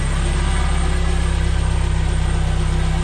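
A Honda K24-swapped Porsche 996 idles with no thermostat fitted, a steady, continuous low engine drone with even pulsing, close and loud throughout with no talk.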